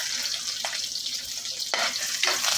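Cabbage sautéing in a pan with garlic and onion, a steady broadband sizzle and frying crackle with a few louder stirring bursts, close and continuous with no talk.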